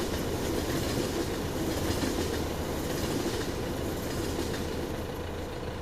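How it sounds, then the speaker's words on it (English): A train in the video game Farming Simulator 2015 rumbles steadily past with a continuous low roar and faint rhythmic clatter of wheels, filling the whole stretch without any voices. "there's the train"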